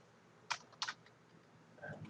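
A few quiet keyboard key clicks, two distinct taps then a softer one, faint and close in a quiet room.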